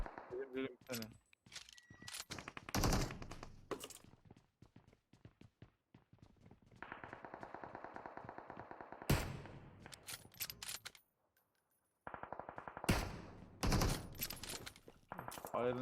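Enemy gunfire in PUBG Mobile, with bursts of rapid shots at loud, close range, broken by gaps and a short silence, while players talk over the shooting.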